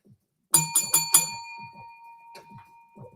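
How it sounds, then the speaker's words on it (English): A bell rings in several rapid, bright strikes followed by a long, sustained metallic ring that slowly fades, close and loud, with faint low thuds in the background. "Bell don't fail me now."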